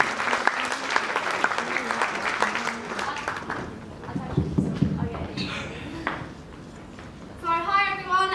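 At a 2015 college sports awards ceremony, an audience claps steadily while a voice speaks over it, the applause thinning toward the end before a brief spoken phrase.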